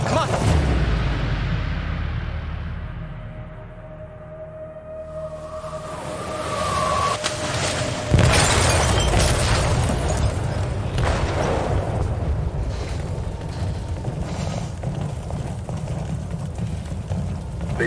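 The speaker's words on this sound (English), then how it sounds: "They detonated an explosive in the hold." Explosion in a ship's hold in the game Detroit: Become Human, a sudden heavy blast followed by a sustained loud rumble and roar, with a tonal rising alarm-like sound just before.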